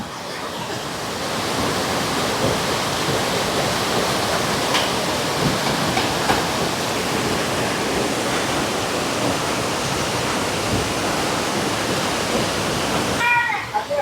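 Water rushing below a cliff, a loud continuous roar of flowing water like a waterfall, steady and close throughout with little variation.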